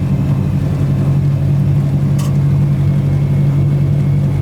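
Toyota AE86 engine and exhaust droning steadily from inside the car while driving, a loud, constant low hum with no pauses and no voices.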